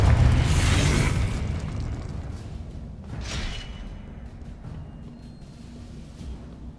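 A Confringo fire spell bursts in the Hogwarts Legacy video game: a heavy booming blast with a whooshing rush up front, then a second softer burst a couple of seconds later, trailing into rumbling game ambience.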